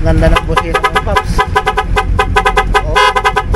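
A loud horn newly installed on a 2024 Yamaha NMAX V2 scooter sounds in quick, stuttering multi-tone blasts, close and harsh, with brief pauses between bursts.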